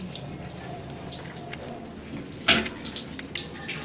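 Water runs from a household faucet while a water heater refills after a flush, a steady rushing stream with light splashing and a brief louder splash midway, heard fairly close and alone.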